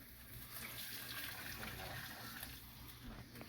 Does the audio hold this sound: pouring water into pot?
yes